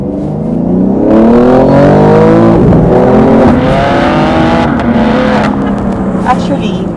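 A BMW M3 Competition Touring engine pulls hard under acceleration, its steady, loud drone climbing in pitch from inside the car while people talk over it throughout.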